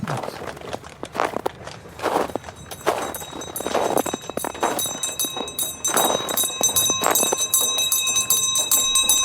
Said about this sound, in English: Why are you ringing that infernal bell?